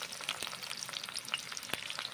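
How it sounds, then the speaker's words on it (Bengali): Eggplant pieces sizzling and crackling in hot mustard oil in a pan, a dense steady fry with occasional sharp pops and stirring scrapes, close up. "বেগুনগুলো ভেজে নিচ্ছি কড়াই গরম করে নিয়েছি"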